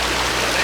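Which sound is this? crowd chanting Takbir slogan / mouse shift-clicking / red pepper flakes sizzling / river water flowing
river water flowing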